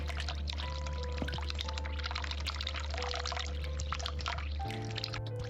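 Water pouring steadily in The Cat Lady game, a continuous liquid rush with faint drips, steady and fairly close with no talk over it.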